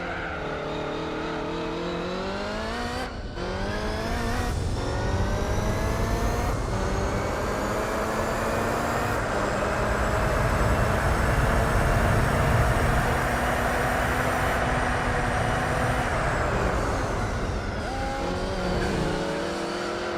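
A Gran Turismo 4 race car screams along at high revs for a sustained stretch, its pitch climbing through gear changes and then holding flat and buzzing as if pinned near the limiter. The engine is loud and close throughout.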